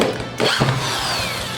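Power drill boring a pocket hole in wood through a MulWark aluminum pocket hole jig, a loud, steady, close grinding whir that runs without a break for the whole moment, with a brief dip in pitch near the start.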